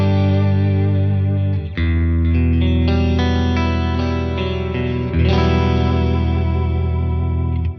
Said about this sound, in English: Let's kick in the delay, the metaverse now.